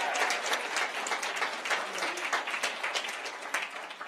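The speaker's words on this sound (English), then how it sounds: "Give him a round of applause." Moderate audience applause for a panelist at a Memphis labor and faith panel, a fairly quiet room of individual claps with distinct sharp hits, steady for a few seconds.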